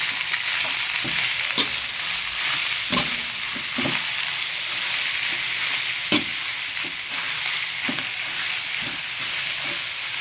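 Stingray pieces fry in a pan with cooked onions, giving a steady, bright sizzle. Scrapes and clatters of stirring recur every second or so, with no voices.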